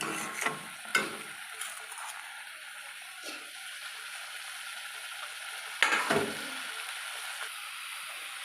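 Spice water and boiled potatoes being stirred in a pan, with a few sharp scraping and clattering strokes over a faint, low sizzle and long quiet gaps, close by.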